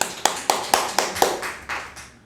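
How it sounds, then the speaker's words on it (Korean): Inside a church, a congregation claps in about seven slow, even beats, each sharp, reverberant clap ringing into the room before the next, the last ones softer and spaced slightly wider. "우리 하나님께 영광의 박수 올립니다"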